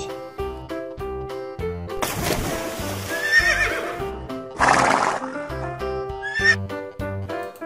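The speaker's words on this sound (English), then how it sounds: "Brown horse." A brown horse neighs loudly in a long whinny, with a second whinny following, set between repeated bright toy-piano or xylophone notes with no voices.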